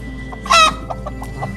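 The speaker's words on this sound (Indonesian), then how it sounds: "Nangkap ayam." A chicken clucks and squawks loudly as it is chased and caught, with one sharp burst of alarmed cackling followed by several shorter clucks nearby.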